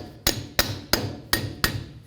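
Five sharp, evenly spaced taps seat a wheel hub cap on a 2007-or-later Toyota Tundra, each a close, solid knock with a short ring, no voices present.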